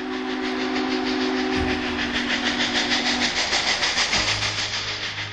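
Union Pacific steam locomotive number 844, newly refurbished, runs loudly close by, its rhythmic chuffing and hiss joined by a sustained whistle blast, with no voices.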